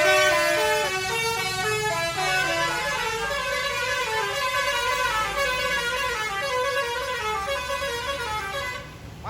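A Basuri telolet musical bus horn plays a rapid, repeating multi-tone melody, loud and close, honking continuously for about nine seconds over a low engine rumble.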